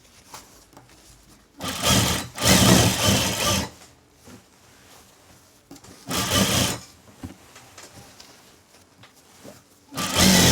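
Sewing machine stitching lehenga panels in bursts, loud rapid whirring runs of about a second or two separated by quieter pauses, close and without talk.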